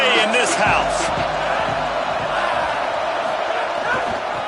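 A college football stadium crowd roars in a sustained, loud wash of cheering and whoops filling the whole stretch, with a broadcast voice over it.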